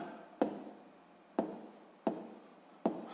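A pen writes numbers on paper while working a math exercise: four separate quiet, close scratching strokes spaced about a second apart, with silence between.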